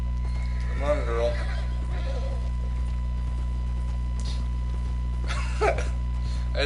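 A horse in the video game Red Dead Redemption II gives two short whinnies, one early and one late, over a steady low hum, with soft clip-clop and a voice talking.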